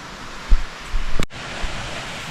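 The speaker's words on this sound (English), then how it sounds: "Beautiful waterfall." A waterfall on the Pen Y Fan horseshoe ridge walk, a steady broadband rush of falling water with wind buffeting the microphone and a brief clunk midway.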